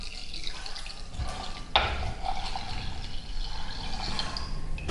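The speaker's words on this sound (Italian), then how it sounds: "E aggiungiamo 1 litro e 300 ml di acqua." Water is poured into a terracotta pot holding rinsed mixed legumes for soup, a steady broadband splashing and trickle running throughout with a small clunk partway, fairly close and with no talk.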